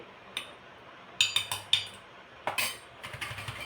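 A jar filled with homemade Kolhapuri masala is shaken and knocked, giving a string of close, bright clinks and taps in irregular bursts against a quiet background.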